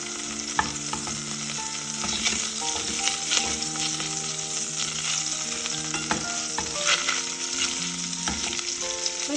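Hot oil fries and sizzles steadily in a pot that still held water, with crackling spatters and occasional stirring clatter throughout and no voices.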